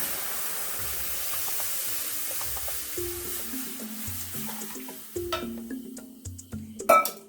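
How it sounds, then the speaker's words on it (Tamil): Milk poured into a pan of roasting payasam ingredients sets off a soft sizzle and bubbling hiss that grows louder and more spattery toward the end, with a few light clinks of utensils. "அதுக்கப்புறமா வந்து ஒரு கப்பு பால் இதில் விட்டுக்குங்க"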